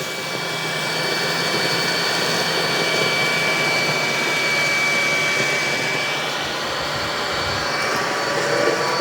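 A Bissell 4173 cordless vacuum cleaner running on its high setting over carpet, a loud steady whine with a constant tonal hum that holds unbroken throughout, near and alone with no talking.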